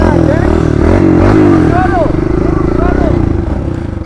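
A mini bike engine held at full throttle, a loud steady buzzing drone that rises and wavers throughout, close by, with people's voices talking over it.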